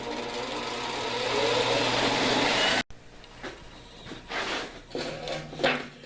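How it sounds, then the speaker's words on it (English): A wire wheel scours a forged, twisted angle iron in a blacksmith's shop, giving a loud, steady, close-up whirring scrub for about three seconds before an abrupt cut to quieter, intermittent motor hum and metallic rattles. "Now I'm just going to hit the whole thing with the wire wheel."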